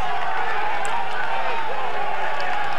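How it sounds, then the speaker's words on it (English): Crowd noise at the 1996 cycling world championship road race, a broad steady roar of cheering spectators filling the whole clip, loud and continuous with a commentator talking over it. "you can probably hear the crowd as well as I can"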